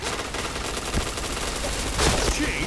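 Gunfire in a shooter video game, with dense rapid shots rattling continuously and a faint voice under it.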